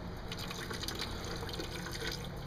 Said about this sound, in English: Okay, now we're going to drain the contents of the hose that we removed.